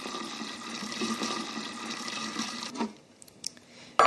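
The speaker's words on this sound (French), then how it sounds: "je rajoute ensuite le sirop. Donc simplement eau et sucre" Water-and-sugar syrup poured into raspberry coulis: a steady liquid pour with faint hissing splash for nearly three seconds, then it stops, leaving quiet with a few small clicks and a sharp knock at the end.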